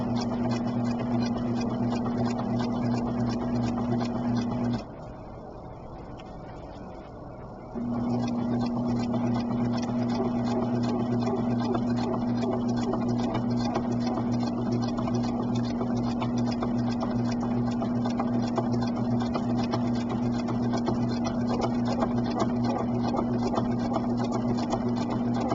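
A sewing machine stitches the final seam of a foundation paper pieced quilt block, a steady, close mechanical whir with a brief pause in the middle before running on.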